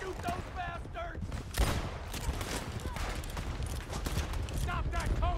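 Volleys of gunfire crack out during a stagecoach robbery in the Western video game Red Dead Redemption 2, dense and sustained, with shouting voices and hoofbeats mixed through the fusillade.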